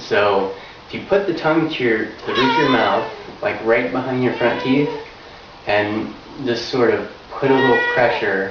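A house cat meows in the background during an at-home neck and tongue-pressure exercise demonstration, its cries mixed under steady close-up talking from a person.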